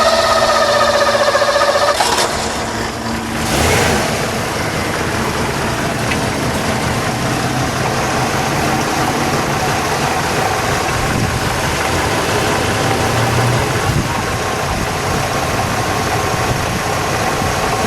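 1984 Mercury Capri ASC McLaren convertible engine settles into a steady, close idle after a brief higher-pitched start, then a loud even rumble continues without talking.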